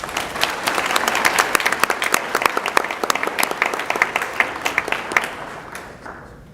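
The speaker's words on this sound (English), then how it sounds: "And so a round of applause for Melissa." Audience applause at a school board meeting honouring a student artist, crisp individual claps building then gradually thinning and fading out near the end.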